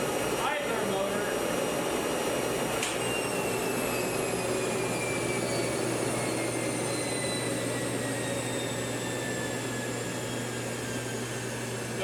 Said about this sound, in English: It sounded like the idler motor.